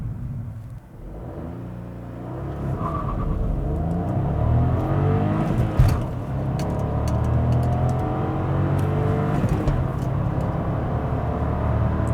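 A 2016 Hyundai i20 Active with a 1.0 T-GDI turbo engine accelerates hard from standstill toward 100 km/h, its engine note climbing steadily through several gear changes under a constant road rumble heard from inside the cabin.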